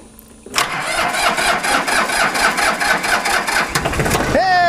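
A diesel engine with glow plugs cranks and catches after the key turn, bursting from quiet into a loud, rough running rumble up close, with a voice heard at the start and end.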